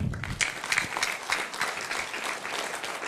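A small group at a home meeting gathering applauds steadily for a few seconds, dense even clapping throughout.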